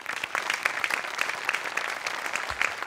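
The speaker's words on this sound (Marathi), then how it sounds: "जगातल्या सगळ्या लेखकांसाठी एकदा जोरदार टाळ्या" An audience at a Marathi comedy show applauds for writers, a brisk burst of many hands clapping together, lively and fairly close, lasting a few seconds.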